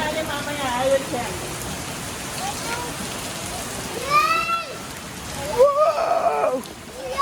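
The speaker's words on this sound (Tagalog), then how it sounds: "It's raining! It's raining!" Rain falling steadily in Porac, Pampanga, a dense continuous patter under excited voices and chirps of birds, close and fairly loud throughout.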